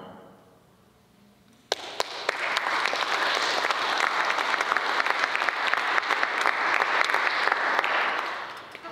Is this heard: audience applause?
yes